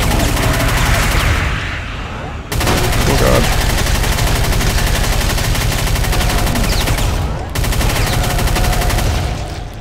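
Relentless, loud gunfire from the video game Brutal Doom 64 hammers on without letup, dense rapid shots layered with explosive blasts across the whole stretch.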